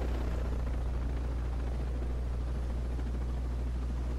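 A helicopter in Ghost Recon Breakpoint flies with a steady, close rotor thrum and a deep, continuous engine drone that holds throughout, with no speech.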